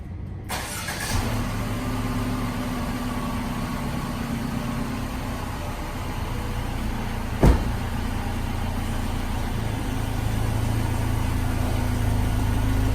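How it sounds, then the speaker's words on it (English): A 2019 Mercedes-Benz GLC 300 engine starts with a brief crank and settles into a steady, close idle hum that holds evenly, marked by a single click partway through. "let's jump right into the vehicle and let's see how it sounds on the startup"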